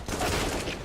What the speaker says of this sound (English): Oh, I love that. That's a headshot.